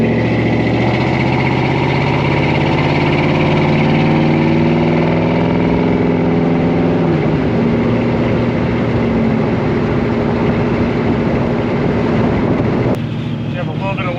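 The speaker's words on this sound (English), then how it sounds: "So the truck starts, runs, performs just like you would expect an LS" LS V8 engine running steadily in a 1972 GMC 1500 resto-mod truck, a continuous low hum heard from inside the cab with some wind noise and faint talk alongside.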